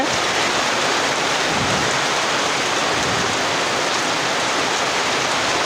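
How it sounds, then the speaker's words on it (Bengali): Steady rain pours down, a dense, even hiss that stays loud and unbroken throughout, with no voices or other distinct sounds over it. "ওখানে বৃষ্টি আছে"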